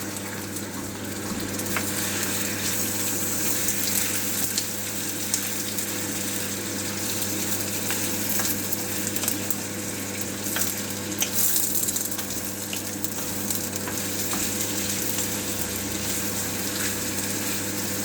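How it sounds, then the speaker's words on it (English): Garlic and tomato puree frying in a pot as the base of a beef stew with peppers, onions and leeks, a steady, close crackling sizzle with a constant low hum beneath it and no talking. "So now as it's frying now"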